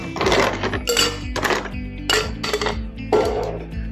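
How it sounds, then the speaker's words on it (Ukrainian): Ice cubes tumble into a metal cocktail shaker in several separate scoops, each one a bright clattering rattle with ringing metallic tones, close and loud with brief pauses between them. "наповнюємо наш е, шейкер льодом"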